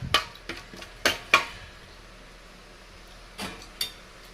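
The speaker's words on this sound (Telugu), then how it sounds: "తర్వాత పోపు సామాన్లు, పచ్చెనపప్పు, ఇవన్నీ వేసేసుకున్నానండి. ఇవి వేసుకొని ఇలా తిప్పుకుందాం." Spatula stirring mustard seeds, tempering spices and chana dal in a hot pan for wheat rava upma, with a few sharp scraping strokes over a faint, steady sizzle.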